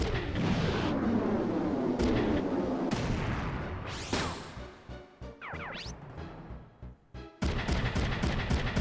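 Mecha tank cannons fire in the video game Front Mission 3, a run of loud booming blasts and crashing impacts at close range, separated by brief sharp gaps with no talk.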